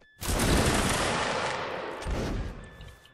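A musket volley from a historical reenactment battle line at an outdoor pub line battle: one loud, near blast of many guns firing together, rolling and decaying over about three seconds with a second swell of shots toward the end.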